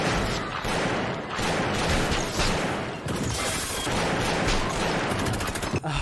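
Film gunfire from Scarface (1983): rapid bursts of shots and machine-gun fire crackle loudly and almost continuously, mixed with crashes and dense action-scene sound.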